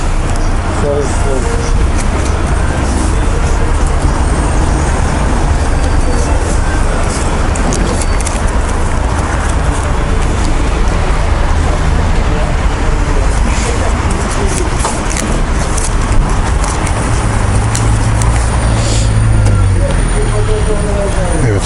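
Loud, continuous road traffic rumble and engine noise at a fuel station beside a motorcycle, a dense roar that stays steady throughout.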